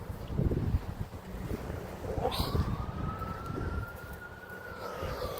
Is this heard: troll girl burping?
no